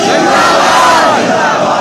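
Mosque congregation at Jamia Masjid Gulzar e Hab chanting the religious slogan "Tajdar-e-Khatm-e-Nabuwwat" in unison, a loud, sustained massed shout filling the short moment.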